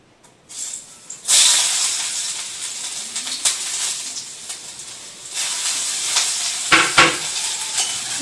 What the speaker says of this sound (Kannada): ಸೊ ಆಯಿಲ್ ಹೀಟ್ ಆಗಿದೆ, ಬನ್ನಿ ಇಂಗ್ರೀಡಿಯೆಂಟ್ಸ್ ಹಾಕೊಳ್ಳೋಣ. ಗಾರ್ಲಿಕ್ ಹಾಕೊಳ್ಳೋಣ.